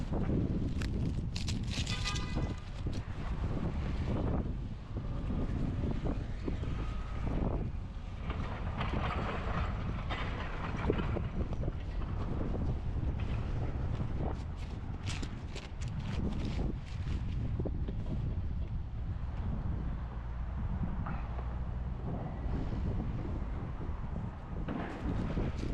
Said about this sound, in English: With the wind like this.